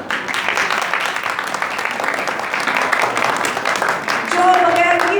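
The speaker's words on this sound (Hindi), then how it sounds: "उन माओं के लिए जोरदार तालियां" A church congregation at a Christmas worship service bursts into loud, sustained applause for mothers, dense and steady throughout, with a voice briefly audible over it near the end.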